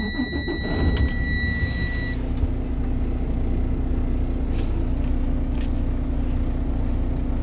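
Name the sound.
semi truck engine starting and building air pressure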